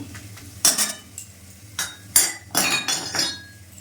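A metal spatula scrapes and clinks against a pan while stirring whole cumin, dried red chillies, bay leaves, cloves, cinnamon and cardamom tempered in hot oil. The loud, irregular clatters come in bursts, close up.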